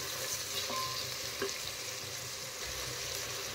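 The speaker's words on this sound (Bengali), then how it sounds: "টমেটো এখন একটু কষিয়ে নেব।" Finely chopped tomatoes sautéing in hot oil give a loud, dense, unbroken sizzle and crackle throughout, with a couple of faint utensil knocks and no talking.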